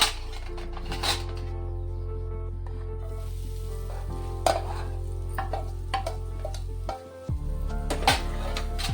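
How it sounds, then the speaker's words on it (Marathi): Coconut roasting in ghee in a pan, with scraping stirring strokes and light sizzling over a steady low hum, a few clinks of a utensil against the pan, close and fairly quiet. "आपल्याला खोबरं थोडं भाजून घ्यायचंय. तूप टाकून घेतलंय मी."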